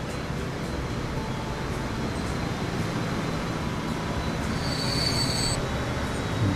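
A freight train in Transport Fever rolls into a station with a continuous grinding rumble and metallic wheel squeal, a higher screech rising near the end, heard alone without talk.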